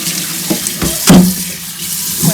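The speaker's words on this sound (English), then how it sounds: "So rinse your pot that you had it in initially" Tap water splashes steadily into a cooking pot being rinsed at a kitchen sink, loud and close, with a few louder gushes and clanks as the pot shifts.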